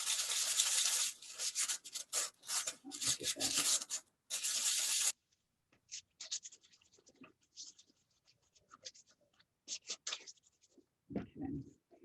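Metal cans are scratched and roughed up to prepare them for rusting, making harsh, dense abrasive scraping strokes up close, followed by sparser, lighter scratches with pauses between them.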